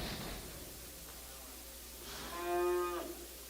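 A single cow moos once at a calf and stocker livestock auction, a short drawn-out low call rising and fading over faint room hum, with no talk around it.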